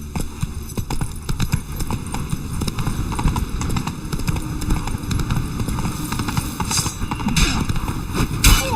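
Roach, a horse in the video game The Witcher 3, trots with steady, close clip-clopping hooves over a constant background, with a few sharper knocks near the end.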